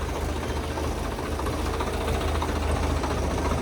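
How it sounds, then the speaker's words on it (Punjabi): Two tractors running after being started, their engines giving a steady, loud, rumbling drone with a knocking idle throughout and no voices. "ਦੋਨੇ ਟਰੈਕਟਰ ਕਰਤੇ ਸਟਾਰਟ"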